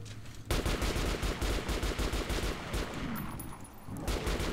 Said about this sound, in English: Need to give it a face full of shotgun when it comes near.